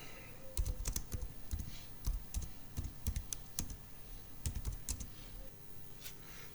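Typing on a computer keyboard: irregular, close clicks of keystrokes in quick clusters, fairly quiet, continuing throughout with no voice.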